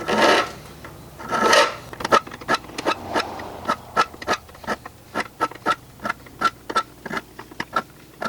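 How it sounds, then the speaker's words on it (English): Saw teeth filed in a vise during a hand tool restoration: a couple of long rasping strokes, then a rapid series of short, sharp file strokes in an even rhythm, close and loud. "put it in the vise and just run the file over each of those teeth"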